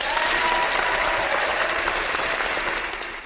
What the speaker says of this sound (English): the whole world's watching and applauding you guys